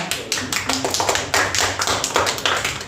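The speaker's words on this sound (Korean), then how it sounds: "다시 한번 큰 박수 부탁드립니다." Audience of middle school students giving a dense round of hand clapping at a project presentation and completion ceremony, steady and moderately loud throughout with irregular sharp claps.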